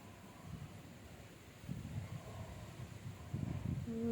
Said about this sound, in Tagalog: Tingnan nyo guys, yung hangin.